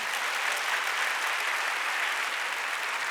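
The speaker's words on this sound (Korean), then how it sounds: "박수 치려면 세게 치는 거야" Congregation applauding during a Sunday church service, a dense, even wash of hands clapping together, steady and fairly loud from start to finish with no talk.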